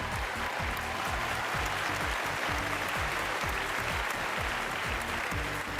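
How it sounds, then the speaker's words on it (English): Applause from a pageant audience for the judging panel, a continuous crowd clap heard at moderate level, with a pulsing low musical beat running beneath it the whole time. "Give them a big round of applause."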